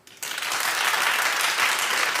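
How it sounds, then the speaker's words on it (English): Applause bursts in suddenly after a brief quiet moment and carries on as a steady, dense patter of many hands clapping. "Clap if you think she should suffer."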